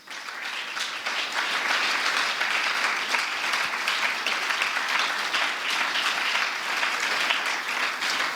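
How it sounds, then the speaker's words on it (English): An audience at an annual lecture event gives a sustained round of applause for honored guests, with many hands clapping evenly and loudly for about eight seconds and no voices over it. "Please let's give them a round of applause."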